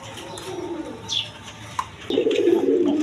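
Caged Rajgolla and satin pigeons coo nearby, with one low call early and a fuller, louder throaty coo that swells near the end, plus a faint chirp between.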